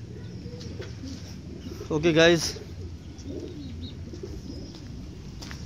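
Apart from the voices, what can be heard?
pigeons cooing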